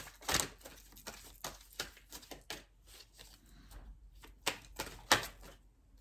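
Quick, crisp riffling bursts of a tarot deck being shuffled, loud then soft in irregular clusters, with no talking.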